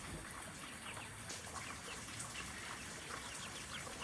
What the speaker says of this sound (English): Supposedly, Schultz and Charles are the same kind of chicken